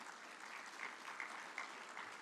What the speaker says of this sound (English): We give a round of applause to GMI.